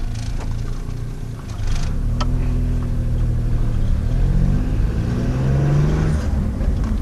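A Geo car engine running on hydrogen fuel pulls away on a test drive, its loud engine droning and rising in pitch as it accelerates, heard from inside with no talking.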